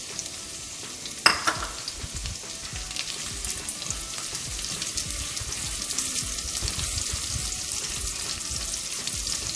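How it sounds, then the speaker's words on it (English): Chopped onions frying in a pan for palak paneer, a steady close sizzle with light stirring scrapes and a sharp clank near the start, no voices. "We're gonna fry until the onions get a little softer"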